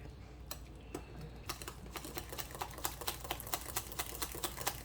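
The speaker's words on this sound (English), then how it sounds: "So there's butter in there. There's salt and pepper. Okay, so that's all mixed. Let's whisk it." A whisk beats butter with salt and pepper in a bowl, making a fast run of quiet, light metallic clicks and taps that quicken after the first second or so.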